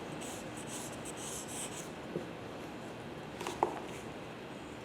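Pencil drawing an ellipse on paper gives a faint, continuous soft scratching over a quiet room hiss, with a couple of small taps near the end and no talk.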